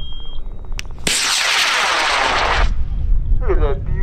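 A high power rocket launches with a sudden loud roaring burst that holds for about a second and a half, then fades into crowd noise and a voice speaking, heard outdoors at a launch field.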